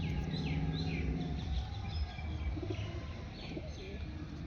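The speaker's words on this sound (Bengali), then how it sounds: "দেখুন নর পায়রা, নরটা দেখুন," A male Madras pigeon gives low, repeated coos at close range amid faint chirps and a constant background hum.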